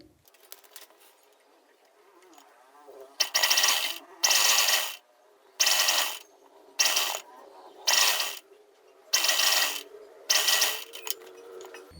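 Sewing machine stitching kurti fabric in about eight short, loud mechanical bursts separated by quiet pauses, each run a fast whirring rattle.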